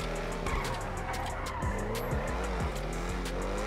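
A car in GTA 5 revs and skids through a long run of tire squeals, its engine whining up and down in pitch, loud and close with no talk over it.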